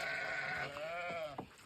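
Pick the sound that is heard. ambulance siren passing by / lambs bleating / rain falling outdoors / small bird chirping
lambs bleating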